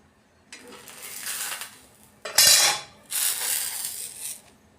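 Sweet-potato puran poli flatbread cooking on an oiled tava over a gas flame, heard as a few bursts of soft scraping and sizzling, one sharper rasp midway, fairly quiet with no talk.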